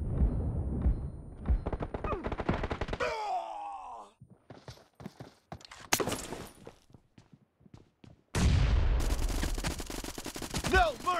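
Gunfire from the PUBG Battlegrounds mobile shooter game, bursts of rapid shots and thuds mixed with game voices, a gap of sparse cracks in the middle and a dense loud burst of fire toward the end.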